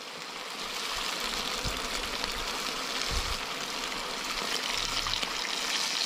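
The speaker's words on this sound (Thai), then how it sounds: "ตามด้วยน้ำมะขามเปียก5ช้อนโต๊ะ" Tamarind water is poured into a Thai fried chili paste with crispy fermented fish, a steady wash of running liquid that holds close and fairly loud from start to finish, with no talking.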